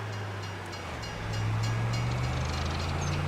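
A train rumbles past in the Farming Simulator 25 video game, a steady low mechanical drone that swells louder midway as it draws closer, with faint rattling on top.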